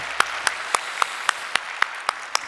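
A church congregation at a young adults' Christmas Eve service claps, heard as about nine sharp, evenly spaced hand claps rather than broad applause, fairly close and alone over a quiet hall.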